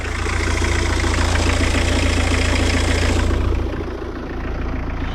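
A Peugeot 806 engine idles steadily with a rough, rattling knock, then the revs dip briefly and settle back to a lower idle.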